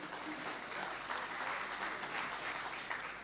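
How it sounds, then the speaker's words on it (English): A conference audience at a CEO forum breaks into a big round of applause, a dense, steady wash of clapping from many hands that holds evenly for a few seconds. "may I have a big round of applause for all of us to feel the energy for this afternoon?"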